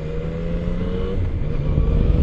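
A Yamaha Tracer 900 motorcycle engine revs hard while standing still, its throaty drone swelling and climbing in pitch, loud and alone.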